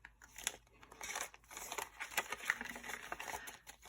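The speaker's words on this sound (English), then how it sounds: "If y'all hear a bunch of paper, that's because it is" Paper rustles and crinkles close by in quiet, irregular bursts, with sharp handling clicks, as cash envelopes and a planner are sorted by hand. No talking.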